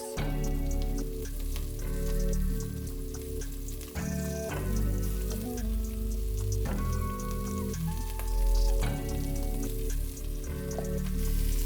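Meatballs for albondigas soup sizzle and fry steadily in a pan over low to medium heat, a continuous crackling hiss with small pops, close and fairly loud throughout with no talking.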